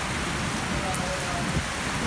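Heavy rain falling steadily outdoors where goats are playing, a dense, loud, continuous hiss of drops striking surfaces close by, with no distinct thunder.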